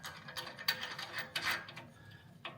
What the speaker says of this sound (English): let's get the washer and nut on the bottom. Get that tightened up.